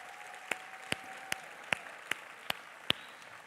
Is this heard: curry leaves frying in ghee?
no